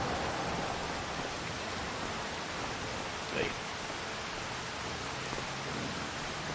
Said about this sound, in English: Hopefully it stops raining today